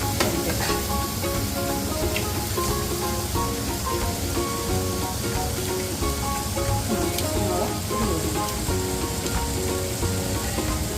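Egg fries with taro-leaf fried rice in a hot pan, giving a loud, steady sizzle and crackle throughout, with a voice faint in the background.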